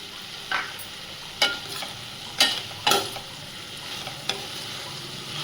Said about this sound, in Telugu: ఇప్పుడు మనం వంకాయలు యాడ్ చేసుకున్నాము.